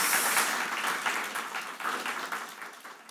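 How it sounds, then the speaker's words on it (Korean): A church congregation gives warm applause for three students, a dense burst of many hands that starts full and gradually thins out over a few seconds. "우리 다시 한번 마음을 다하여 크게 박수 드리도록 하겠습니다"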